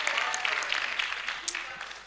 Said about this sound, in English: Let's give them a big round of applause for this.